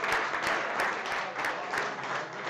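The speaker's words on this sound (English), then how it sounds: "we'll give him a big round of applause" An audience at a weekly cooking showdown applauds a regular attendee, steady crowd clapping with a few sharper bursts, moderately loud and continuous.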